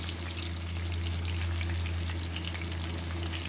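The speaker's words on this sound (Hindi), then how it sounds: "हाई फ्लेम पर 3 से 4 मिनट एक साइड फ्राई होने देंगे" Masala-coated fish fries on high flame in hot oil, giving a loud, steady, dense sizzle that crackles evenly throughout without a break.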